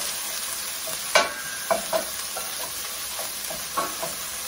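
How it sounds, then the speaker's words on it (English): Onions sizzle steadily in a hot pan, with a few sharp clinks and scrapes of stirring breaking through the constant frying hiss. "So you can hear the sizzle of the onions."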